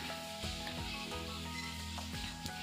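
Fried masala for doi bhindi sizzling steadily in a pan after water is added, a continuous close hiss with a few soft bubbling pops and a faint low hum beneath.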